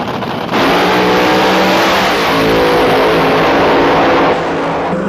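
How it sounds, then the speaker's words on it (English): Nitro drag race cars at full throttle, a loud close roar that swells suddenly and holds steady for several seconds before easing slightly, with no talk. "This is a close drag race."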